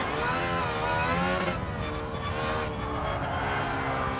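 Aston Martin Valkyrie racing engine in Gran Turismo 7, a dense, high-pitched harmonic scream held at high revs, briefly lifting off and coming back, loud and steady with no talk.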